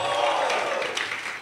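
Church congregation clapping hands together during a lively prophetic service, a dense, steady wash of many hands with crowd noise and some voices mixed in.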